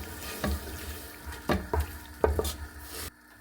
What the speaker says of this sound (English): I'm just going to add a splash of water just to moisten everything up.